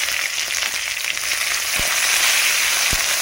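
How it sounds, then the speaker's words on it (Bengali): Chopped onion sizzles steadily in hot oil with whole dried chillies, bay leaf and panch phoron, a loud bright frying hiss with a couple of soft knocks from the pan. "ভালো করে পেঁয়াজ এবং ভেজে নেব"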